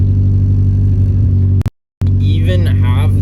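A Volvo 240 engine idling with its exhaust after a leak was patched with JB Weld: a steady, deep, loud rumble with a brief dropout partway through, and someone talking over it afterwards.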